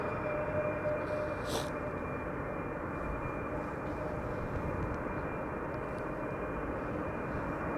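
Boeing 737 airliner, KLM flight arriving from Rome, landing on runway 06 at an airport: a steady, distant jet engine roar holds throughout with a broad rumbling wash and no voices.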